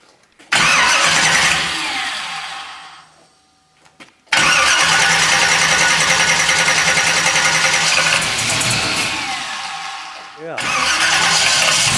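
A 1970 Chevrolet Camaro SS with an Edelbrock fuel line kit cranks and catches, then fades and dies. It restarts into a loud, steady idle with a brief dip before picking back up. Voices may be present beneath the engine.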